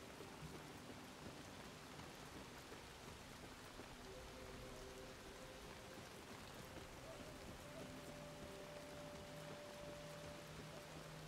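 Steady rain falls in the survival game Soulmask, a continuous broadband patter across the whole stretch, with faint tonal game music and brief quiet talk underneath.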